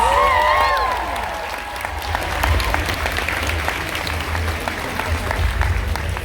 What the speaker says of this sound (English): Give this beautiful build a round of applause.